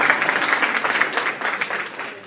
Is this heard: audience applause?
yes